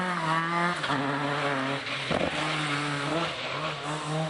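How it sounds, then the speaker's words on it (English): A Ford Escort Mark II rally car slides through a greasy stage at Lytham Hall, its engine note rising and dropping sharply between gear changes, loud and close. "here's Damien Cole in the Mark II Escort, sliding his way through Lytham Hall"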